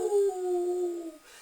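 A single drawn-out howl, steady and fairly clear, in the manner of a werewolf or wolf, trailing off after about a second.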